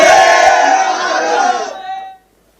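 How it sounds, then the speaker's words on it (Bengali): A crowd of protesters chants slogans outside a police station, a loud, dense mass of raised voices that holds steady for about two seconds, then cuts off abruptly into silence. "বাইরে স্লোগান।"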